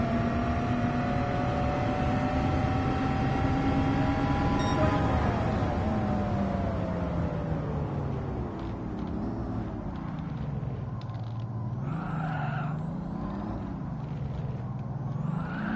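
A race car in Gran Turismo 7 drives with a steady engine drone that rises in pitch, drops sharply as it shifts or brakes, then wavers through revs, with no talking.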